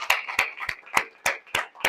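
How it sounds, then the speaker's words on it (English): A small group claps in a quick, uneven patter of sharp, close hand claps, spaced a fraction of a second apart. "let's give a big round of applause to both Bryce and Johnny"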